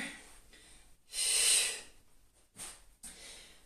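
Breathing during a Pilates session for winter sports preparation: one long, strong, breathy intake of air, then a couple of shorter, softer breaths close by, with no talk.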